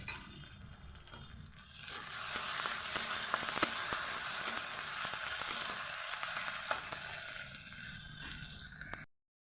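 Ginger garlic paste sizzles and crackles steadily in a hot pan with oil for several seconds, with occasional light scraping of stirring, then stops.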